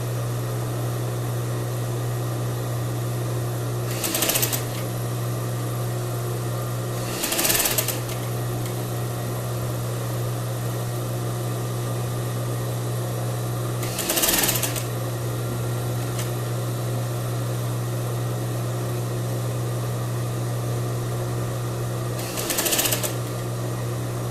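A sewing machine stitches the sleeve of a crepe bubble blouse, sounding as four short bursts of rapid whirring over a constant steady hum, with pauses between runs.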